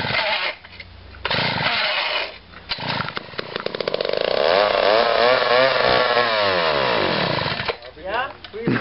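A 1970s McCulloch chainsaw pulled from a barn runs loud and close, its engine revving up and down in uneven surges with sputtering idle dips between.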